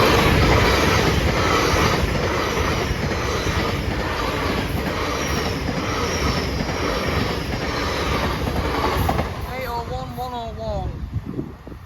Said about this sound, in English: It is an L&ER. I didn't think they came through here.